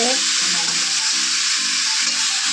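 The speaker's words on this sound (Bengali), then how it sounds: "দেখো চিকেন ভাজা হয়ে যাচ্ছে" Chicken fries in a pan with an intense, continuous hiss and sizzle, loud and close, with a brief voice at the very start.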